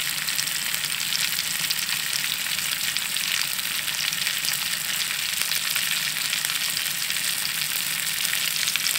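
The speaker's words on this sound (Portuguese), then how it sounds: "Estamos agora fazendo uma empinzinha frita." Cassava pieces fry in butter in a pan, a dense, continuous close sizzle and crackle with no pauses, steady in loudness throughout and no voices.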